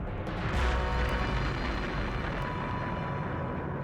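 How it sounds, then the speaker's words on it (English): A massive asteroid impact is rendered as a sustained, dense, rumbling roar, heavy and loud across the whole span, without any distinct individual blasts. "Massive asteroid impacts."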